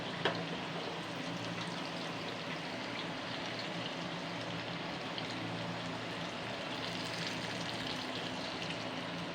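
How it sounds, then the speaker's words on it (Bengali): Moong dal puli dumplings frying three at a time in oil in a wok, a soft, steady, rain-like bubbling hiss that stays even throughout, fairly quiet and close. "এভাবে তিনটে তিনটে করে ভেজে নেব"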